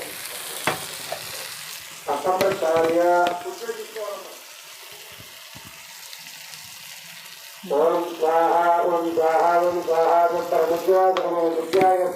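Broad beans and tomatoes with green chillies, turmeric, salt and chilli powder cooking in a pan: a continuous soft sizzle runs throughout, with voice-like tones rising over it in two stretches.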